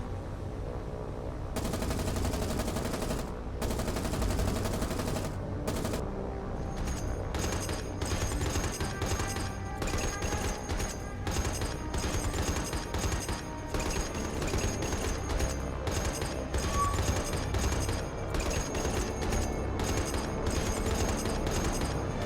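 Naval guns in War on the Sea fire in a sustained barrage, dense overlapping bursts and booms continuing loudly throughout with no pauses, an aircraft carrier nearby in the battle.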